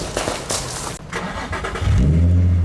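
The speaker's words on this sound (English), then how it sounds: "cars are merely revving to entertain the crowds that are waiting for a spectacle" Loud Nissan 350Z at an outdoor supercar show, its engine barking through short revs before settling into a deep, rumbling idle, close by.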